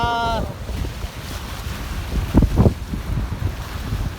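Rough sea waves surge and wash around a wooden outrigger boat on brown, churned-up water, with steady wind noise buffeting the microphone and a couple of louder splashes midway.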